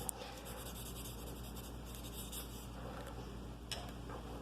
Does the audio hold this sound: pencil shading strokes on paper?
yes